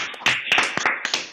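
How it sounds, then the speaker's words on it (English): Applause for a newly launched book at a virtual event, a brief burst of loud, close clapping in uneven bursts, like a few people clapping near their microphones. "let's celebrate and give a big round of applause"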